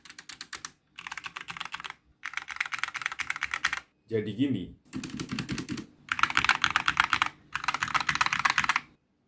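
Rapid typing on a Rexus MX 5.2 mechanical keyboard, close and crisp clicky keystrokes in several bursts separated by short pauses, with someone briefly speaking in the middle.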